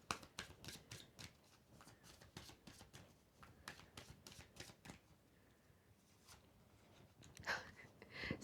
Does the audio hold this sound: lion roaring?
no